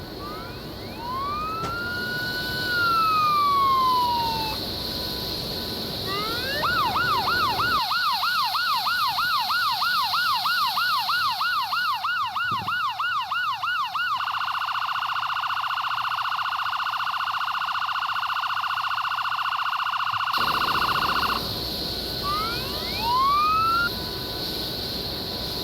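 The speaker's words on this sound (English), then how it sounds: "And we have the siren." Siren of a JRX MD902E Explorer helicopter in the X-Plane 12 simulator: a rapid warbling wail gives way to a steady high tone and then a slower sweeping whoop, loud and sustained with no talking.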